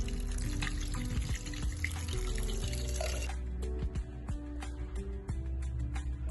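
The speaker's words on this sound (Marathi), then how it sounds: "तर यामध्ये आपण आता टाकणार आहोत पाणी" Water splashes and pours into a metal pressure cooker pot, with clinks and drips as the stream continues and then breaks into scattered splashes.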